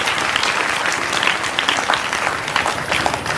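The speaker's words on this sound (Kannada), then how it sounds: "ತಮ್ಮೆಲ್ಲರ ಜೋರಾದ ಚಪ್ಪಾಳೆಯನ್ನು ತಟ್ಟುವುದರ ಮುಖ್ಯವಾಗಿ ವೇದಿಕೆಗೆ" A seated crowd at a spiritual discourse breaks into loud, sustained applause to welcome a swami onto the stage, with many hands clapping together and a faint crowd murmur beneath.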